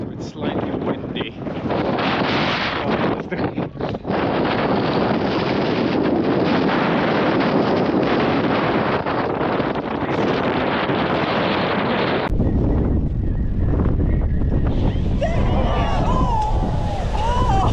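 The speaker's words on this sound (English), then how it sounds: "So it's slightly windy." Strong wind buffets the microphone outdoors on the Golden Circle route toward a geyser in Iceland in March, a loud continuous roar that cuts to a calmer hiss near the end, where faint voices come through.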